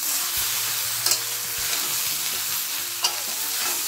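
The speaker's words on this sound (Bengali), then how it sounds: "এবার গ্যাসটা সিম করেই ভাজা ভাজা করব।" Spices with salt and turmeric frying in oil in a pan over low heat give off a steady, close sizzle, with two brief scraping stirs and a low hum underneath.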